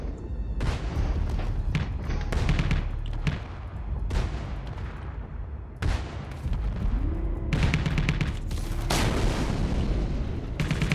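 Anti-aircraft gun fire in the Space Engineers video game: a rapid series of loud booming shots and thuds, bursts repeating with brief pauses and some mechanical whine, close and dominant, no talking.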